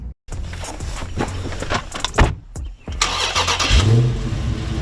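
A Dodge car engine starting and running, a cranking catch followed by a steady mid-pitched idle with small revs, close and fairly loud, with a short break partway through.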